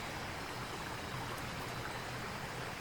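Creek water flows steadily past a deer-hunting tree stand in cold autumn weather, a continuous soft rushing wash at moderate distance, unbroken and without voices.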